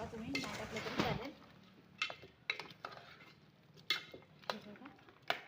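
Chicken masala with potatoes is stir-fried in a pan over a village wood-fired stove: a spoon scrapes and clinks against the metal in irregular close strokes over a faint sizzle, with a voice speaking at the start.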